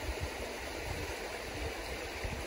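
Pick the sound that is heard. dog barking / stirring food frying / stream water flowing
stream water flowing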